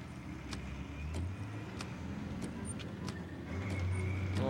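A car in the Dreamcast game D2 drives along with a low steady engine drone that rises in the last second, broken by a few sharp clicks and faint tones.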